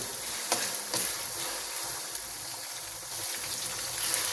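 Chickpeas fry in a pot for degi pulao, making a continuous close sizzling hiss with a few faint clinks of stirring and no speech.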